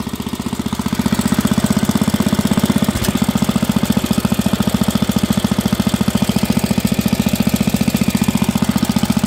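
Roper RT13 riding lawn tractor engine running close by, a loud steady rapid chugging idle with a brief hitch in rhythm near the three-second mark.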